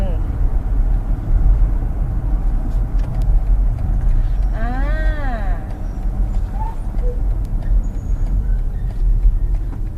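A BMW X3 xDrive30e drives toward a U-turn, its low, steady road and cabin rumble running throughout, with a brief warbling rise-and-fall tone partway through.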